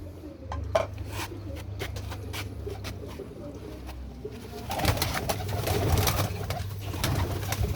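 Pigeons coo in a loft, their low repeated calls coming in bursts close by amid scattered clicks, rustles and clanks of handling.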